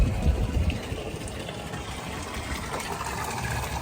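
A hand swishes through cold lake water at Gregory Lake, a close, steady splashing and gurgling burble throughout, with no speech.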